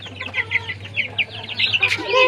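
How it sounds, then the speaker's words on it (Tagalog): Many chicks cheeping with chickens clucking close by, a steady overlapping chorus of high peeps and clucks with a low hum underneath. "Ang daming sisiw."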